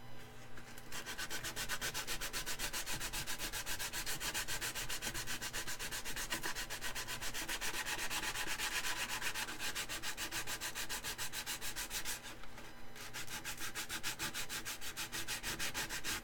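Steady, continuous rasping of sandpaper rubbing back and forth on a 3D-printed shell, with a rapid even rhythm and one brief pause near the end.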